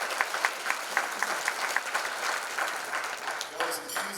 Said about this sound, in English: Let's give a round of applause for Steve.